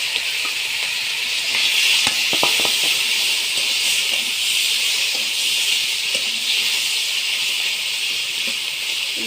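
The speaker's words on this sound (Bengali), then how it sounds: "এবার আমি মাছগুলো দিয়ে দেবো।" Puti fish frying in hot oil, a steady loud sizzle and hiss with a few sharp crackles and spatters near the start.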